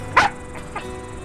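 A dog gives one sharp, fairly close bark, followed by two softer, shorter yips in a quiet room.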